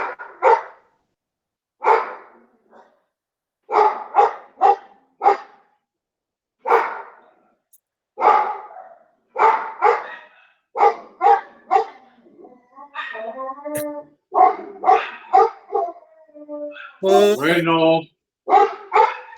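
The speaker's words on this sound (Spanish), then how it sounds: "Controlen a ese perro, jóvenes." A dog barks repeatedly in short loud bursts and clusters, with occasional yips and whimpers, close by during an online agrarian law class; a person speaks briefly between the barks.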